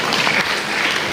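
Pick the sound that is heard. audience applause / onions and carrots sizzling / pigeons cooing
audience applause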